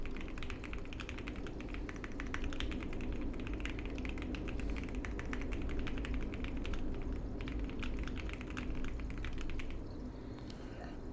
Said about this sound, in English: I am getting so bad at typing.